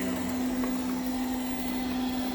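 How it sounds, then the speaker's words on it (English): A robot vacuum cleaner runs on its highest power setting, a steady, loud motor whine with constant airflow hiss and a fixed low hum, unbroken and without talking. "this actually is on the highest power setting for the vacuum"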